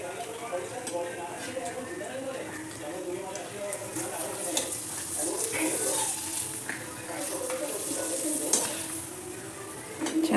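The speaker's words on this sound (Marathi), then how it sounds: "इथं आपण साबुदाणे बटाट्याचे पापड तळून घेतले." Sabudana and potato papad frying in hot oil, a continuous close sizzle and bubbling with occasional stirring and utensil clinks, while someone talks over it.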